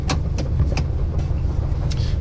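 A 1996 Ford E-350 van rolls down the road, its steady low engine and road rumble filling the cabin, with a few faint clicks and rattles on top.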